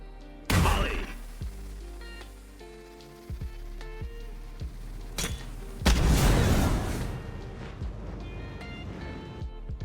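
Brimstone's Molly incendiary from Valorant, thrown on the Breeze map: a sharp burst with a bright crackle near the start, then a louder, sustained fiery hiss and roar about midway that lingers and fades, with scattered game clicks between.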